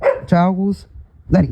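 A dog barks a few sharp times close by, with a longer whining, yelping note, while a person talks over it.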